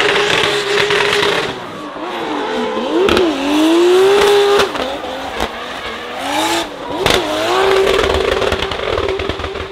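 Drift cars at a drift event rev hard and squeal their tyres in loud, continuous passes, engine pitch rising and falling repeatedly with sharp bursts of skidding.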